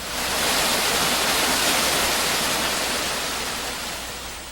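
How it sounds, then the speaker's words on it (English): Water mixed with firefighting foam rushing from a fire hose nozzle in 1949 Los Angeles gives a loud, broad, steady hiss and roar that swells in and holds, easing slightly toward the end. "is mixed with the moving column of water and flows from the nozzle in a sticky mass"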